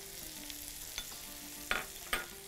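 Shish tawook chicken with green coriander frying in a pan, a steady low sizzle with a faint hum and a few sharp scraping or stirring clicks near the end.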